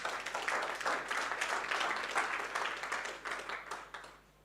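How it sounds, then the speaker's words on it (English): Conference audience applauding at an NFT event in Africa, a steady wash of many hands clapping for several seconds before fading out near the end. "Another round of applause."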